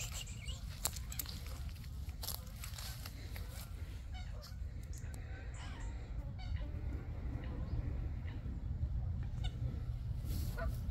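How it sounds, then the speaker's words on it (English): Geese and ducks honking and calling by the water at a bird-watching spot, steady low noisy bed with scattered sharp calls throughout, moderately near, with a little background speech. "Let's have a look at the birds."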